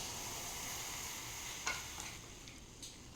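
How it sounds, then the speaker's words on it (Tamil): Milk and sago simmering together in a pot for payasam, a quiet steady bubbling hiss with a few soft clicks near the end, close and faint with no talking. "இப்போ ஜவ்வரிசியும் பாலும் கொதிச்சு வருது"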